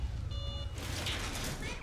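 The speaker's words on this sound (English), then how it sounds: "If you touch the lasers, the alarm goes off." Electronic alarm in a video game set off by touching lasers: short steady beeping tones, then a burst of louder game noise and effects, with talk over it.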